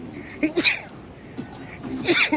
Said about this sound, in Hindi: और मुझे दो छींक आ गई है